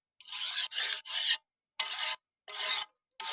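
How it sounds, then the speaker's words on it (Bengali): A spoon scrapes through mutton curry in a pan in about six rhythmic rasping strokes, close and crisp, with short pauses between them. "এবার সুন্দর করে নাড়িয়ে চাড়িয়ে নিচ্ছি।"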